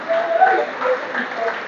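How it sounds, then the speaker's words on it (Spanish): A church congregation applauds steadily during a Spanish-language worship service, a dense wash of clapping that stays even throughout, with a preacher's voice faintly mixed in. "Denle un aplauso al Señor"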